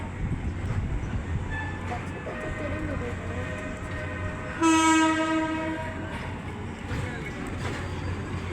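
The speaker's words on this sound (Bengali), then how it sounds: "ওই যে চলে গেল রেলের গাড়ি।" A train rumbles past with a long horn blast midway, a steady mechanical roar close by, while people talk over it.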